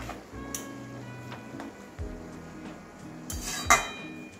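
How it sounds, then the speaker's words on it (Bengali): A spoon knocks and scrapes against a metal cooking pot while water lily dal is stirred, with scattered clinks and one louder clatter near the end, close and without talk. "ভালো করে মিশিয়ে দেবো।"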